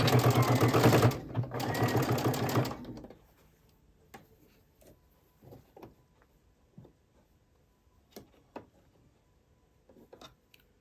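A sewing machine stitching a crib sheet runs in a fast, loud burst for about three seconds, then stops, leaving faint clicks and small handling knocks of fabric and machine.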